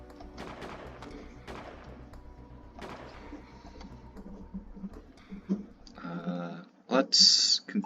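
Crew gunfire in the space colony game Space Haven comes as sharp bursts of shots and clicks, mixed with game effects and music, ending in louder electronic tones.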